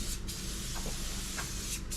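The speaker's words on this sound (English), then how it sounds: "Spray oil up," Cooking oil sprayed onto a barbecue gives two short, soft hissing bursts about a second and a half apart, over a steady low background rumble.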